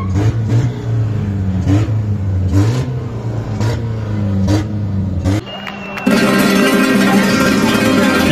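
Cartoon race cars take off from the starting line, with engines revving in pulsing bursts and then a sudden, louder roar of acceleration as they launch.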